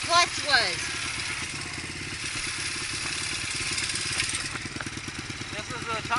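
Dirt bike engine idling at a motocross track, a steady rhythmic low putter heard up close, with a voice talking briefly near the start.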